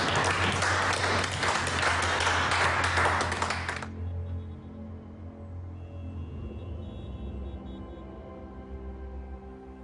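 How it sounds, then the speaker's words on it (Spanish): A crowd in a telenovela scene breaks into loud, dense applause for about four seconds, then it stops abruptly, leaving a quieter background with a low hum and faint tonal sounds. "No, pues un aplauso, ¿no?"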